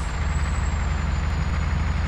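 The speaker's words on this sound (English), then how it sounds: "Sorry truck, revving you way too hard" A MAN F2000 truck in Euro Truck Simulator 2 labours hard up a hill, its engine revving in a steady, loud, deep drone with a thin high whine above it.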